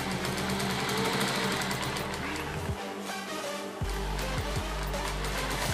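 In a Ugandan shoemaking workshop, a sewing machine stitches shoe lining to leather, running with a steady, close mechanical whir and rapid needle chatter that holds throughout, with a brief dip in the hum midway.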